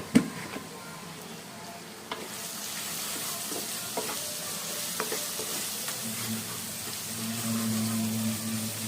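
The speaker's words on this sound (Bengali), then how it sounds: "এখন মশলাগুলোকে ভালো মতো আমি কষিয়ে নেব।" Spices with coriander powder are sautéed in oil for a thin tilapia curry with potato and eggplant: a steady close sizzle with scraping stir strokes that grows a little louder and fuller toward the end.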